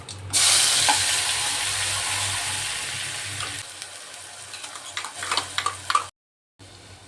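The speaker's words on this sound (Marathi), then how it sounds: "तेल गरम झालं की यामध्ये मोहरी टाकायची जिरं" Mustard seeds and cumin hit hot oil with a loud, bright burst of sizzling that gradually settles, followed by scattered crackling pops before a brief silence.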